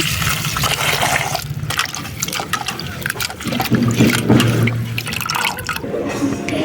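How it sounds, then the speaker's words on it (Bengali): Chopped leafy greens being rinsed in water for a village rice dish, with steady sloshing, dripping and trickling throughout at close range, loudest near the end. "শাকগুলো কাটা হয়ে গেছে এবার ধুয়ে নেব"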